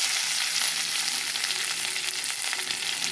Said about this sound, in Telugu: ఆవాలు చిట్టుపట్టమంటున్నాయి కదా